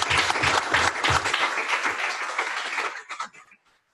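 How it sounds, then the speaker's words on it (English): A room of people applauds steadily for a few seconds, then the clapping thins out and fades to silence. "before we hand over to Liz, can we just have a round of applause for all of our speakers today?"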